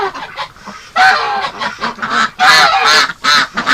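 Ducks and geese honk inside a barn during a cold-weather lockdown, a close, loud chorus of repeated nasal honks in irregular bursts, several birds overlapping with short pauses between calls.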